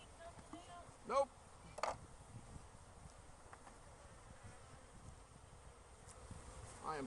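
Bees swarm around a sugar feeder outdoors, a steady low buzzing drone with a few louder passes close by, faint background noise throughout.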